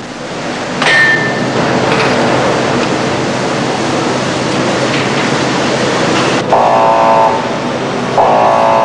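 A steady, loud industrial clatter fills a Trabant engine factory, with a few sharp metallic ringing strikes of a hammer on a crankshaft standing out near the start and toward the end.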